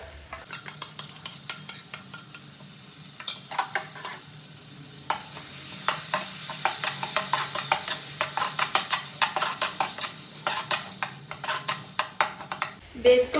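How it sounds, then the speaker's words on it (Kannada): Ground spinach (palak) paste frying in hot oil with a little turmeric, a steady sizzle with repeated stirring scrapes and taps of a spoon against the pan, close and fairly loud throughout. "ಇವಾಗ ನಾನು ರುಬ್ಬಿರೋ ಪಾಲಕ್ನ ಹಾಕ್ತಾ ಇದ್ದೀನಿ"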